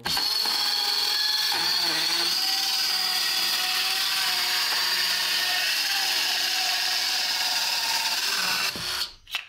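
Parkside PHKSA 12 B3 cordless circular saw cutting through wood, a loud steady high whine sustained for several seconds before spinning down abruptly at the end.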